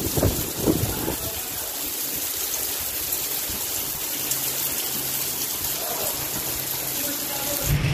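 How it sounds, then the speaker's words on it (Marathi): Heavy monsoon rain pours steadily in the Konkan region, a dense hiss of water close around, with a faint low rumble in the background. "भयानक पाऊस लागतोय"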